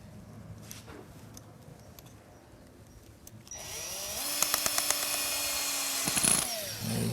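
A power drill whines as it bores into a foundered horse's hoof, starting midway and rising to a steady high-pitched buzz before cutting off, after quiet shuffling.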